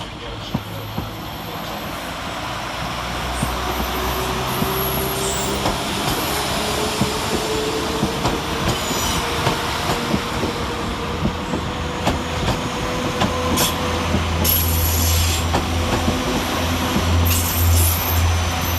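A Northern class 323 electric train pulls out of Manchester Piccadilly station, with a rising motor whine and rhythmic wheel clatter over the rails, steady and fairly close, amid station ambience.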